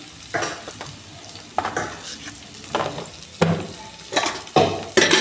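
Turmeric, Kashmiri chilli powder and cumin sauté in a pan with a splash of water, sizzling in repeated bursts as a spoon stirs and scrapes, close and fairly loud.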